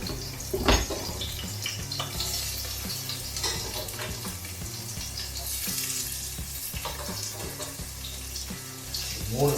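Three onions frying in a pan for a Tamil prawn pepper masala, a steady close sizzle with occasional stirring scrapes and light clinks of cookware, running the whole time.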